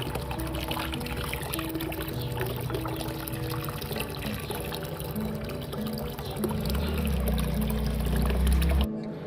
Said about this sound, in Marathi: आणि नवीन फ्रेश वॉटर त्यामध्ये ॲड केला